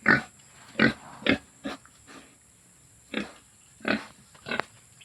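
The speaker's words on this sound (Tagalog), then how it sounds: "Ito po yung ating baboy nga nandito sa ano guys, yung nandito sa ating kulungan." A large, always-hungry pig in its pen gives a series of short, loud grunts and snorts at irregular intervals, with quieter rustling between them and no talking.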